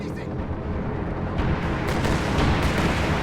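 Strafing run raking a Tiger tank during a Company of Heroes 2 battle: a dense, continuous roar of gunfire and blasts that swells slightly toward the end, loud and close, with no clear pauses.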